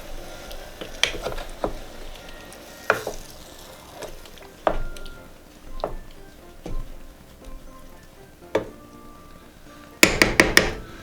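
Pork ribs in tomato gravy stirred in a pot on low heat: a spoon knocks and scrapes against the pot in scattered, intermittent clunks, ending in a quick cluster of sharper taps, with no talking.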